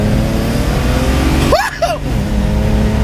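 A BMW 335xi with an N54 engine and a big race intercooler roars loudly and steadily up close, briefly interrupted midway by a short voice.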